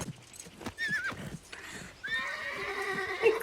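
Close clip-clop of horse hooves and a couple of sharp whinnies, with faint voices in the background, from a Game of Thrones scene.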